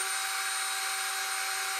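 A bare rubber sanding drum, with no sandpaper on it, spinning the cams of a Linotype keyboard: a steady high-pitched motor whine with a constant tone, close and unbroken, with no talk.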